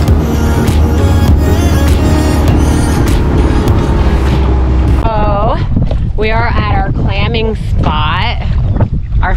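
A Saturn inflatable fishing boat runs out on Tuckerton Bay, with a loud outboard motor drone and wind buffeting the microphone for the first half, then people talk over the ongoing engine and water noise.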